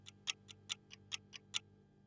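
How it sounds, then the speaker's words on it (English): Tick-tock clock sample programmed as a pattern in a Maschine beat, alternating louder and softer notes; eight crisp, evenly spaced clicks, quiet against a faint low hum. "Let's first start off with this tick-tock sound that you guys have heard."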